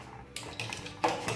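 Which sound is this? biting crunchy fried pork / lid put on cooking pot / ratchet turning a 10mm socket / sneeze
lid put on cooking pot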